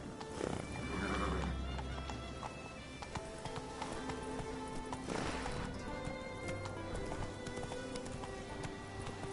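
Geralt's horse Roach gallops in The Witcher video game, with quick rhythmic hoofbeats, a brief neigh and snorting near the start, heard close and fairly quiet over ambient game sound.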